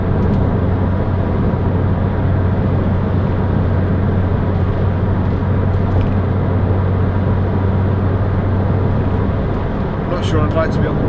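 A 2006 Toyota MR2 1.8 VVT-i roadster engine running at steady low revs while driving, a continuous droning hum with road noise under someone talking throughout.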